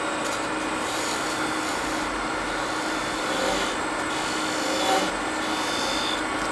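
Hand scraper drawn across wood, a continuous coarse scraping rasp with steady texture and slight swells, close and fairly loud, no talking over it.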